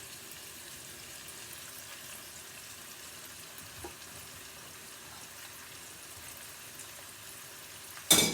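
Italian salsiccia sausage sizzles in a pot with a faint, even crackle, then a short louder clatter at the end.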